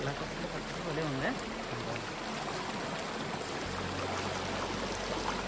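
A forest stream in the Nallamala hills near Bhairavakona rushes over rocks and boulders, a constant broadband wash of flowing water heard close by and fairly steady in level.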